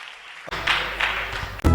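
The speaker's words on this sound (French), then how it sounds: "Acclame très fort le Seigneur Jésus-Christ." A church congregation bursts into applause during a worship service, a sudden loud wash of clapping that starts after a brief quiet moment and continues steadily.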